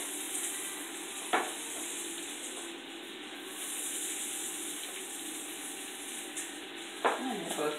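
Sweet pepper and scallion sauté with veggie chunks in a pan, making a soft, even sizzle with two brief clatters of stirring, with no voices.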